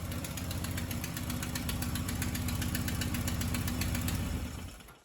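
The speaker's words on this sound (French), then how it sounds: "On entend un petit bruit d'échappement bizarre" A Golf MK2 GTI engine idles loud and steady with an uneven knocking, puffing pulse from the exhaust, continuing for about four seconds before cutting off at the end.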